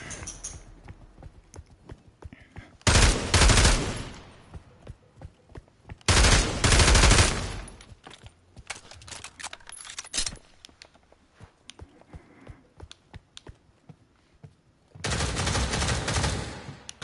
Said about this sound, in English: Do some running and shooting